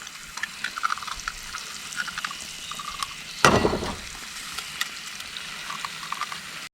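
Eggs dropped into hot Kerrygold butter in a pan at a motorcycle campsite, giving a steady crackling sizzle with a sudden louder burst as they hit, then continued spitting and popping.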